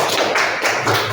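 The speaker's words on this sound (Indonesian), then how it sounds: "kasih tepuk tangan" A classroom audience claps together after an Islamic studies lesson, a dense, steady patter of many hands close by, lasting about a second with no talking.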